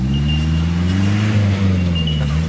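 A Land Rover Perentie's engine drones and revs as it climbs a slippery hill in bush parkland, a loud close rumble whose pitch rises and dips under strain.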